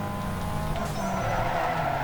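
A Ford Model A skids at a car scene meetup, its tires squealing loudly and continuously over a steady engine roar, up close.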